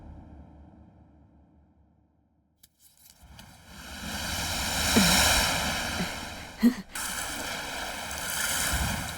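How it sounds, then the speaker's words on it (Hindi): Ocean waves wash and roll in a steady broad surge that swells and recedes, with a short quiet gap before the surf rises again and one sharper crash midway. "वो लहरों की आवाज सुनाई दे रही है ना"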